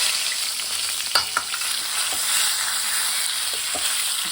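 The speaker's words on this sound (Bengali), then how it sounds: "এর মধ্যে জিরা দেব" Cumin seeds and bay leaves sizzle steadily in hot oil, with a few sharp clicks of a spoon against the pan, close and without talk.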